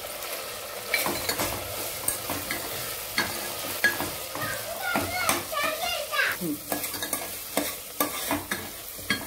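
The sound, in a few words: vegetables sautéing in pan for veg pulao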